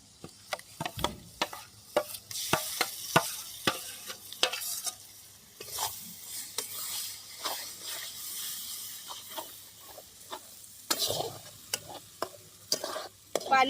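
Ground masala paste frying in a pan while being stirred for a fish curry, with repeated scraping strokes of a spoon over crackling sizzle, close and irregular, with no speech.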